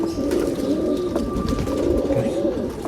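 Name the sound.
Rekdhar pigeon cooing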